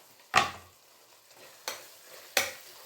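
Sambar powder stirred into tomato gojju in a pan, three separate scraping strokes of a spoon against the pan, spaced about a second apart, over a faint background sizzle.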